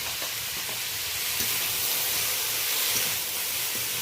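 Cut potatoes with turmeric and salt stirred in a pan for a leafy greens curry, a steady steamy hiss of frying with occasional faint scrapes, close and even throughout.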